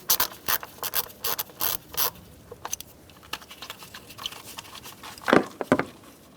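A ratchet with a 10mm socket undoes a bolt on the ignition coil of a 2010-2013 Kia Soul 2.0L, quick clicking bursts in uneven runs, close and fairly crisp, with a few louder knocks near the end.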